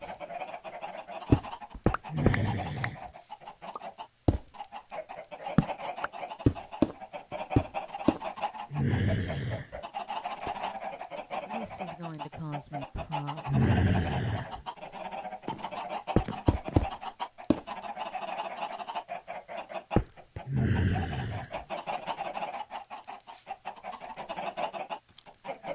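Chickens in the Minecraft video game give repeated short clucks and squawks at irregular intervals, close and fairly loud, while someone talks over them.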